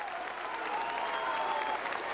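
Home crowd at a Wexford v Down Gaelic football qualifier roaring and applauding in wild celebration, a dense, steady wall of cheering from a large stadium crowd with whistles rising through it, sustained throughout.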